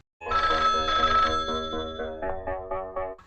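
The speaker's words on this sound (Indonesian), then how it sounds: "Saat telepon berdering" A telephone bell rings in a quick, trilling burst, then breaks into shorter repeated pulses, loud and close with no voices.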